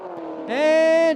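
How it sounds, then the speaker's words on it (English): A race engine in the final pass of a no-prep drag race at Cordova Dragway, a Camaro against a hatchback Mustang, gives a brief, loud, rising rev that climbs and holds a strained tone before cutting off. "Your 7-0 finals will be the Camaro here in the left lane going up against Johnny in the hatchback Mustang"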